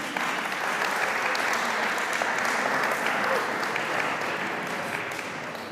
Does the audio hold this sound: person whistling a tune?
no